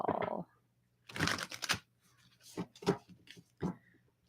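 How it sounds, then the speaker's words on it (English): Playing cards shuffled by hand during a tarot love reading, heard as several short papery riffling bursts with pauses between them, fairly close and alone. "One more shuffle."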